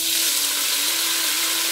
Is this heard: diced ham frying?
yes